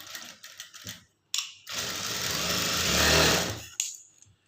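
Sewing machine stitching a seam on a high-neck blouse, a loud steady mechanical whirr running for about two seconds between brief clicks and handling noises.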